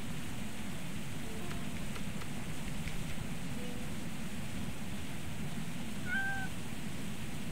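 A cat in the video game The Little Acre gives a few short, clear meows over a steady rain-like hiss.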